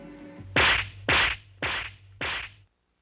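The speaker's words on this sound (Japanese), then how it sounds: "太鼓のバチが清の頭上へ飛んだ。" Four sharp, loud blows of a taiko drumstick striking a person's head in a kendo dojo, evenly spaced about half a second apart, each a crisp whack with a short decay, close and alone with no voices.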